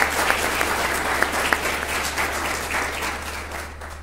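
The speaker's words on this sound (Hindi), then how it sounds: "तो आइए हम तमाम गुरुओं के लिए जोरदार ताली द्वारा हौसला बुलंद करें।" An audience claps loudly and continuously for its teachers at a special day gathering, a dense steady applause with a few sharper claps standing out and slowly easing off at the end.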